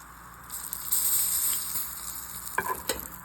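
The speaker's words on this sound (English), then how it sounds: "Ooh, hear that sizzle, baby. That's a morel mushroom, first one of 2024." A morel mushroom sizzling in a hot frying pan, a loud steady hiss with crackling bursts and a couple of sharp spits near the end, close and without talk.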